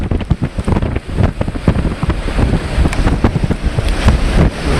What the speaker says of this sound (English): The waves are rolling in here.